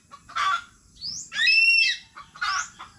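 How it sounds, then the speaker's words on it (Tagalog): A hen squawks and clucks in alarm as a dog chases it, with several loud frantic bursts and one longer screech, close and without talk. "O, inahin ang nahabol ni Bagwis."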